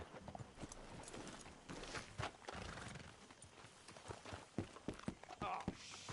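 Horses in the video game Red Dead Redemption 2, with hoof clip-clops and a whinny heard close by alongside voices and in-game ambience.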